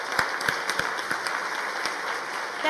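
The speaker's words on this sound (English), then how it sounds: "So if we could have just one last round of applause for the Kennedy Library" An audience at a Kennedy Library forum event applauds, a steady wash of many hands clapping with a few sharper claps standing out, moderately loud and continuous for a few seconds.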